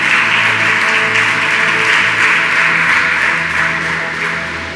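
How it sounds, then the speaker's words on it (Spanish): A church congregation applauding during a service, a loud, dense wash of clapping that holds steady and tapers slightly toward the end. "Dale un aplauso fuerte al Espíritu Santo"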